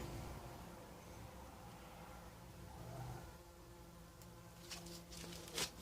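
Faint, steady insect buzzing, like bumblebees droning close by, over a low background rumble with a few brief rustles near the end.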